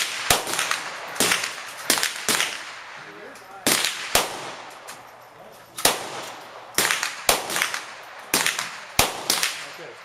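Rifle shots ring out at a shooting range, about a dozen sharp, loud cracks at irregular intervals, each followed by a short echoing decay, with occasional quiet voices between shots.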